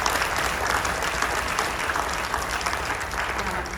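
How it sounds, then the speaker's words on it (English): An audience at a school fall concert applauds warmly, a full and steady burst of many hands clapping close by, with faint crowd murmur under it and no clear talk. "So a big round of applause for everybody."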